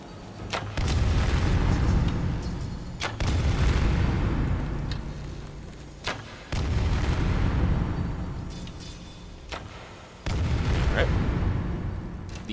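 Elemental arrows exploding in Skyrim, several sharp booming blasts spaced a few seconds apart, each followed by a rumbling tail, with someone talking between them.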